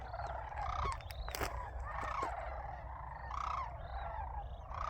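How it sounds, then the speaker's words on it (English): Sandhill cranes call repeatedly at a waterfowl complex out in open country, a chorus of rolling, bugling cries rising and falling over steady background noise, with several birds overlapping at close to middle distance. "Come on, birds."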